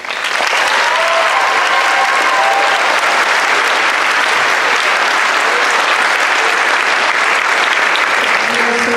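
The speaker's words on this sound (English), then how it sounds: "Please give them a warm round of applause." Sustained audience applause fills a senior class night gathering, loud and steady for the full stretch with dense clapping and a faint murmur of crowd beneath.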